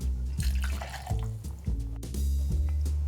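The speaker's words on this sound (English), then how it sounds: "I'm using the Rock's Teremana tequila, and we'll use 2 ounces or 60 milliliters." Silver Teremana tequila poured for a spicy pomegranate margarita, about 2 ounces splashing into a glass or shaker in short, close liquid bursts with no talk.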